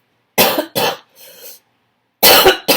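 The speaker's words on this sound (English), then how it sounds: "I do have asthma and I cough a lot." Someone with asthma coughs loudly and close up: two sharp coughs, a softer breathy pause, then two more harsh coughs, with no talk.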